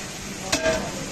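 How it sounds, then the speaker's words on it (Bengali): Rice, onion and oil are stirred in a pot for Bangladeshi chicken tehari, giving a soft scraping stir with one brief sharper scrape over a steady low sizzle. "চাল ডালার পরে এখন নাড়া হচ্ছে।"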